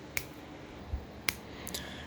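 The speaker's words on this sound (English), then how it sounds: "So I'll snap my fingers" Two or three sharp, isolated finger snaps, close and fairly crisp, separated by quiet pauses in an otherwise still room with no talking.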